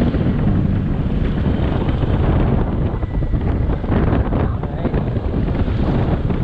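Loud, steady wind roars and buffets the microphone throughout, a constant low rumble with no pauses.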